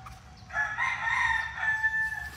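A young rooster, a bull stag, crows once in a long drawn-out call, loud and close, over a faint background with no talking.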